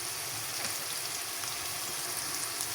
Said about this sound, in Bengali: এটা দিয়ে আমি 2-3 মিনিট একটু ভেজে নেব পেঁয়াজের সাথে